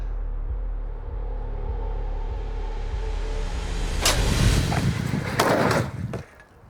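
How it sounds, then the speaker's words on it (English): Close, loud bangs from a .44 Magnum Colt Anaconda revolver fired outdoors as grizzly bear defense practice, a few sharp shots near the end following steady low rumble, then quiet. "I am up next with the absolutely ridiculous 44 mag Colt Anaconda."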